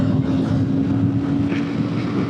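Moto Morini adventure motorcycle pulling steadily in fourth gear up to about 100 km/h, a continuous engine drone with a strong steady hum under heavy wind rush, close and loud throughout.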